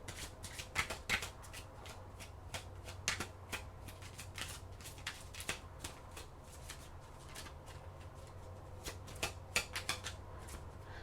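Oracle cards are shuffled close up, making a continuous soft riffling and flapping with frequent sharp card snaps over a low steady hum, with no talking.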